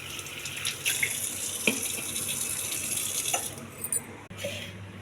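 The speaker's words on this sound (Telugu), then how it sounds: "ట్యాప్ వాటర్తో 2-3 సార్లు బాగా కడగాలండి" Tap water runs steadily over grapes in a sink, a close continuous gush with brief clinks near the end, and no voices.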